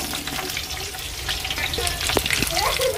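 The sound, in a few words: onion and whole spices frying in oil in a kadai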